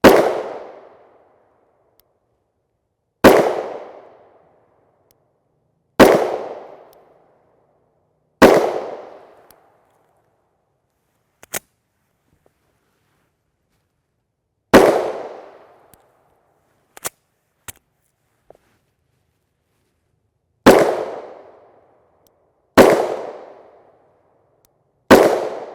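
A Rock Island Armory 5-inch pistol fires 10mm Auto 180-grain FMJ rounds. Eight sharp, loud, echoing gunshots come at uneven intervals, with faint metallic clicks between some of them.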